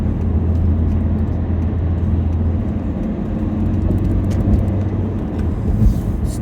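Road traffic in Ipswich, a steady close wash of passing and idling cars with a low engine drone that rises and falls, heard alone without voices.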